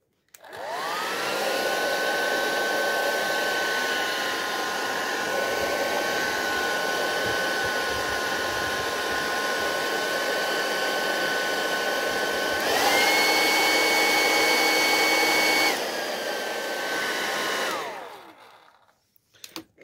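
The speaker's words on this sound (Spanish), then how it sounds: "Después que lo tengan listo, el secador de pelo." A hair dryer runs steadily for about eighteen seconds in a room while hair is being fixed, its whine stepping up to a higher setting near the end before it winds down and cuts off.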